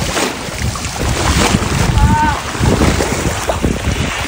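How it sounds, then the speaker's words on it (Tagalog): Water surges and splashes in a resort wave pool at Aqua Mira, a loud continuous wash with wind buffeting the microphone and voices mixed in. "Ayan na effect ng wave pool."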